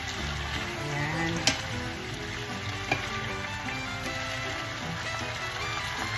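Head-on shrimp sizzle and fry steadily with mixed vegetables in a pan, a continuous close crackle broken by a couple of sharp pops and stirring clinks, with no voices.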